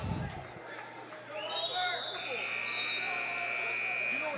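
A sustained electronic buzzer tone sounds at a wrestling match, steady and fairly loud over gym crowd noise and echoing room ambience, beginning after a brief moment of commotion.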